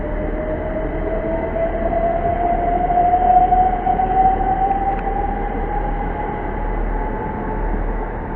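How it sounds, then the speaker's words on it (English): A Great Western Railway train pulls out of Reading station, a steady loud rumble carrying a faint rising tonal whine as it gathers speed, with no voices. "Departing now is the 1320 Great Western Railway serves from Cardiff Central to London Paddington."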